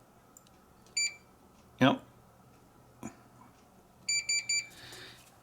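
A continuity tester touched to the test points inside an Xbox Series X Core controller gives short electronic beeps, one near the start and a quick run of three toward the end, with speech and handling noise between them.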